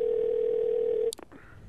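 A steady telephone dial tone hums on a phone line for about a second before a click cuts it off, followed by faint handset handling noise.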